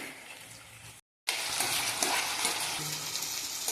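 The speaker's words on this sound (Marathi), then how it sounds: "कढईमध्ये तेल घेऊन बटाटा त्यात सोडलेला आहे" Potato pieces fry in hot oil in a kadhai, giving a steady hissing sizzle that drops out for a moment and then returns louder, with faint stirring beneath it.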